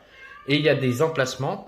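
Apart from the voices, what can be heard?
cat meowing, wanting to go outside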